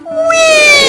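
A crowd of voices imitates a siren in unison, a single rising then sweeping glide from a high 'we' down toward a low 'or', loud and close for about a second.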